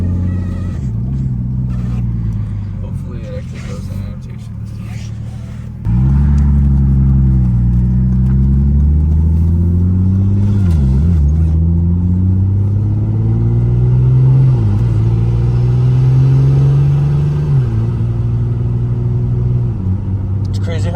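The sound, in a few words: turbocharged BMW E36 car driving on the Autobahn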